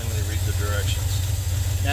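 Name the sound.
International Harvester Scout engine warming up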